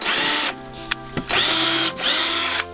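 Power drill boring holes into a sagging wooden flume during a repair: two sustained, loud, close-up whirring bursts separated by a short pause and a couple of clicks.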